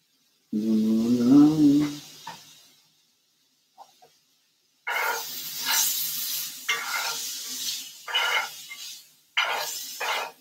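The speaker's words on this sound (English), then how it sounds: "getting our sauteing our stir-fried fish" Stir-fried fish being sautéed in a pan gives bursts of loud, close sizzling and stirring that come and go after a short tonal, voice-like sound and a near-silent pause.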